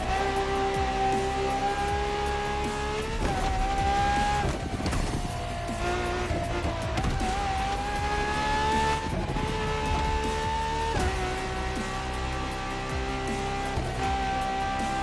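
Ferrari V12 engine in The Crew Motorfest, the strongest naturally aspirated V12 hybrid, howls steadily at high revs, dipping briefly at gear shifts before climbing again, with occasional tire squeal mixed in.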